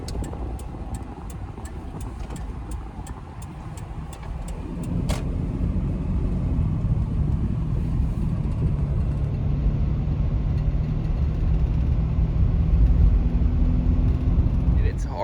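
A car drives along a desert road on the way to a Death Valley campsite, its steady engine and tire rumble loud and constant inside the cabin, growing heavier partway through, with occasional ticking and some talk.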